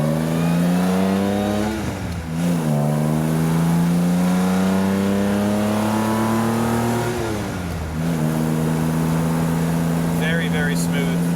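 A 1950s Aston Martin DB2/4 Mark III accelerates on the road, its engine rising in pitch through gears with dips at each shift; the drone is close and loud, and a voice talks over it.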